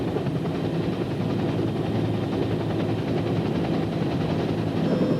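Military helicopters flying in trail formation, a loud, steady rotor and engine drone that fills the whole stretch with a continuous low throbbing roar.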